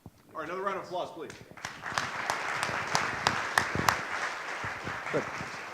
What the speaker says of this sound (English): another round of applause, please